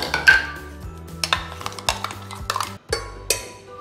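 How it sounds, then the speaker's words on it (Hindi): Ground paste is scraped and tapped out of a steel grinder jar into a pressure cooker, with repeated close metallic clinks and knocks of a spoon against metal, no talking. "अब हम इसको भी प्रेशर कुकर में ट्रांसफ़र करेंगे"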